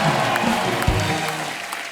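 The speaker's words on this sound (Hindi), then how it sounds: "इसके लिए जोरदार ताली हो जाए" Dense studio audience applause on The Kapil Sharma Show, a loud continuous patter of many hands that fades slightly toward the end.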